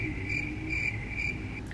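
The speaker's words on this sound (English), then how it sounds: "Crickets." Crickets chirp as a sound effect in steady, evenly spaced pulses of shrill trilling, clear and moderately loud over a low background hum.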